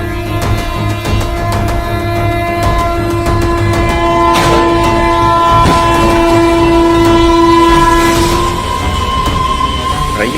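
A train horn blares long and steady over the rumble of an approaching train at a railway crossing in Deoghar, Jharkhand, where a lorry sits stuck on the track. The horn swells louder and holds throughout, with no talking.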